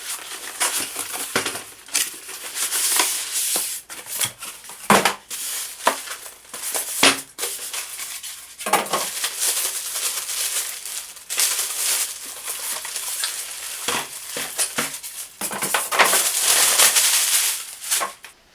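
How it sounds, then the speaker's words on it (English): Unboxing of a white Be Quiet Pure Base 501DX midi tower PC case in steel, ABS and plastic, with dense crinkling, rustling and crackling of packaging and foam, steady and close throughout with sharp bursts, no talk. "So let's open the box and discover all the cool features it has to offer."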